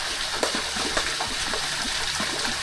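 Water running steadily in a backyard swimming pool, a constant rushing wash with faint splashy detail, fairly close and alone without talk.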